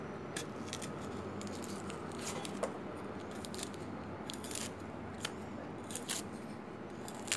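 Shallots being peeled for frying, a steady close crackling and snipping texture with frequent small sharp clicks, continuous and fairly quiet with no voices.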